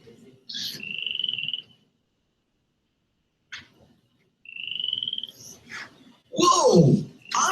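A frog croaks in short bursts separated by pauses, loud and close, ending in a louder, rougher call, with squeaky high tones between the croaks.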